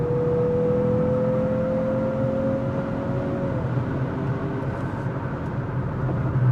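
A 2026 Mazda CX-50 Turbo, a nearly two-ton compact SUV with a six-speed transmission, accelerates with a steady engine drone and a rising whine that holds level, heard from inside the cabin with no talk.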